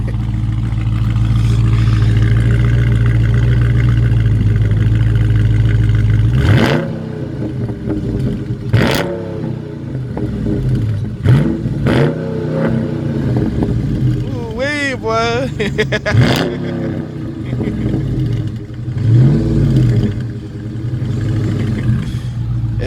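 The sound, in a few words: 2019 Dodge Charger 392 engine starting and revving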